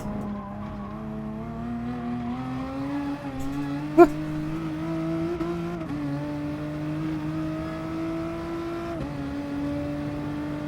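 A BMW race car in Gran Turismo Sport on PS4 holds a steady, whining engine drone, its pitch rising and dropping through gear changes, with one sharp click partway through.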